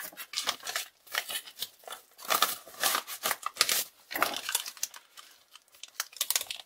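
Scissors snip and slice through crinkly mail packaging up close, giving a busy run of crisp cuts mixed with rustling and crumpling plastic.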